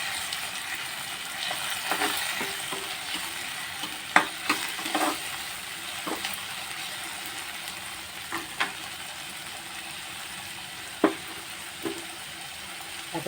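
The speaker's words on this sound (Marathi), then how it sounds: "टोमॅटो चांगले परतून घेऊया." Tomatoes sizzle in a hot pan as a spoon scrapes and stirs at irregular intervals, a close steady frying hiss broken by sharper clinks, with no voices.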